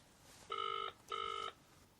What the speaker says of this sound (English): I'm going to ring his house phone.